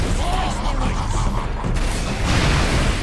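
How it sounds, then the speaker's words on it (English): Ork rocket launchers fire from high ground in the Warhammer 40k Space Marine video game, producing heavy, continuous booming explosions and mechanical clatter, loud throughout the short stretch. "Orc rocket launchers on the high ground."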